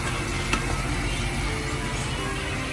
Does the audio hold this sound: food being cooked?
yes